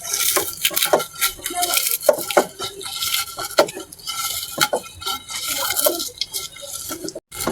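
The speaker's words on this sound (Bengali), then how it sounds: "মরিচগুলা লবণ দিয়ে কেসতে দেন।" Chilies are mashed with salt by hand for a salted hilsa bharta, a Bangladeshi mash, giving a steady run of soft scraping, squishing and light tapping against a bowl or plate, close and fairly quiet.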